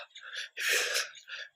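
A voice imitates breathless gasping, producing three ragged, breathy gasps in quick succession, the middle one longest and loudest, close and alone.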